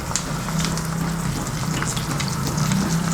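Kerala style fish frying in oil in a pan over low to medium flame, a steady close crackling sizzle with scattered pops throughout.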